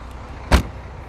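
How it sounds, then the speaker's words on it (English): The boot lid of a Mercedes C43 AMG shuts with a single solid thump, close and brief, against a quiet background. "let's close the boot"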